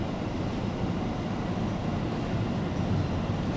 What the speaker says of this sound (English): Comes my train to go to Numazu.